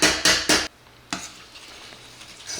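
Three quick scraping strokes of a utensil in a pot as water is stirred into brown gravy, then a single clink and quiet kitchen background.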